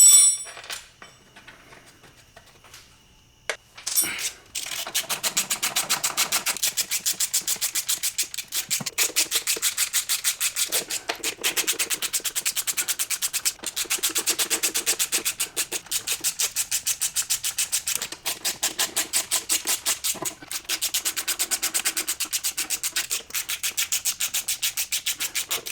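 Valve cover bolts are tightened slowly on a Mazda Miata engine during timing belt work, with long steady runs of rapid, close ratchet clicking broken by brief pauses after a quiet start.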